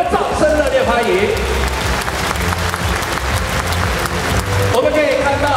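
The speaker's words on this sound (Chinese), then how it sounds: "给泰国的众道亲，给他们掌声热烈欢迎" A large arena audience at the Taipei Arena applauds warmly to welcome the Thailand delegation, loud continuous clapping with a low musical backing running underneath.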